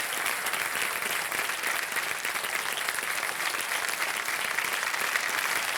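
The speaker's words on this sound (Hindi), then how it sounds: "खड़े होकर के तालियां बजाई जा रही हैं काजल रेवती जी आपके लिए" Standing ovation for Kajol and Revati from a television quiz-show studio audience, a dense, even roar of clapping that stays steady across the whole stretch.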